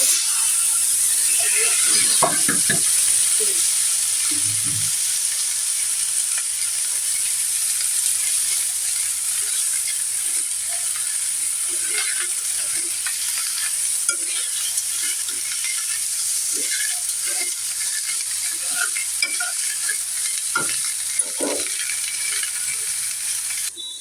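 Onion and green chili frying with salt, turmeric and coriander powder in a pan, a loud steady sizzle with intermittent scraping and clicking of stirring.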